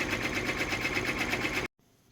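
A Brother PR1055X embroidery machine stitches a keychain, its rapid, steady mechanical whirr loud and close for under two seconds before cutting off abruptly to near silence.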